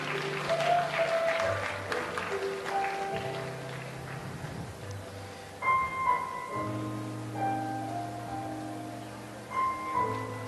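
Audience applause at a palliative care workshop ceremony, a steady patter of clapping running through with sustained tonal music or hum lines over it, moderately loud and continuous.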